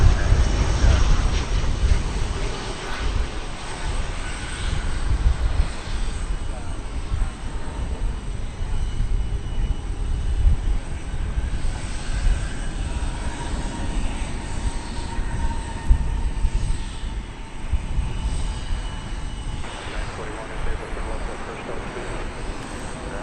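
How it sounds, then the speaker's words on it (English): A jet airliner touching down at DFW Airport roars and rumbles steadily at a distance, a broad low drone with some whine that swells and fades slightly, while people talk intermittently over it. "The flight that just touched down was coming in from Monterrey in Mexico"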